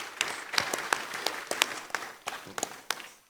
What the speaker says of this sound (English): Please, a round of applause for the Prime Minister.